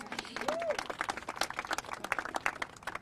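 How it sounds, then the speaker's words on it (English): Scattered audience clapping at a state legislators' news conference on vaccine legislation, an uneven patter of hands that rises and falls, with a voice sliding briefly over it near the start. "Yes, you guys can clap for that"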